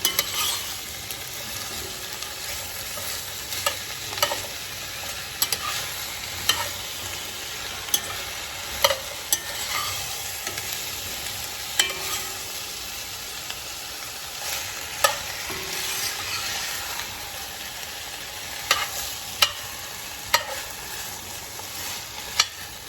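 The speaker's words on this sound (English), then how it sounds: "I'm just gonna toss this in and get the vegetables nice and coated in that oil." Vegetables for Japanese curry fry in oil with a continuous close sizzle, broken by regular stirring scrapes and light utensil taps across the whole stretch, with no talking.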